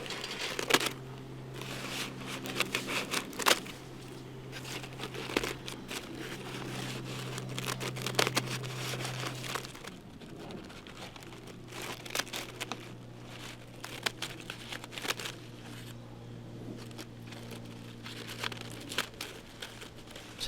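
Papery envelope of a large bald-faced hornet nest being cut open, a run of soft, irregular crinkling and tearing crackles, fairly close and quiet, with a faint steady hum underneath.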